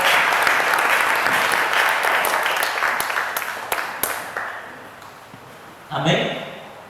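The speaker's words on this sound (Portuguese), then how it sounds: "Aplauda o Senhor bem forte." A church congregation claps loudly and enthusiastically for several seconds, then the applause tapers off and a voice speaks briefly near the end.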